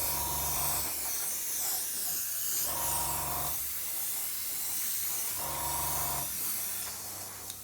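An airbrush lays a gloss coat over model decals in three short bursts of hissing spray, each about a second long, separated by quieter gaps with a faint background hiss.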